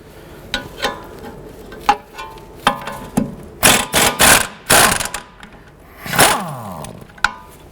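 A hand ratchet clicking in short bursts as it loosens the strut-to-knuckle nuts on a 2006–2011 Honda Civic, close and loud, with brief pauses and metallic clinks between runs.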